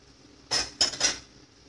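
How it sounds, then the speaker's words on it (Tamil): A metal spoon scrapes and clinks three times in quick succession in a pan while chili powder is stirred into an onion-tomato masala for fish curry, close and crisp against near silence. "மிளகாய்த்தூள் போட்டு நல்லா கலந்து விட்டுக்கோங்க."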